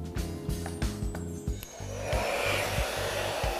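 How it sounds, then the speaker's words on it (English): A hair dryer blows loudly up close, its whoosh wavering with rhythmic pulsing as it moves, turning into a stronger steady rush partway through. "You want to take your blow dryer."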